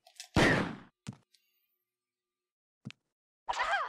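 Hunter creature from the video game Resident Evil dying: a loud guttural screech followed by brief scattered thuds and then a second rasping cry, with near silence between.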